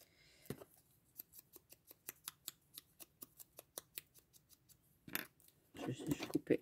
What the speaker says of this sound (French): Je vais juste couper la petite pointe puisque ça va venir se glisser derrière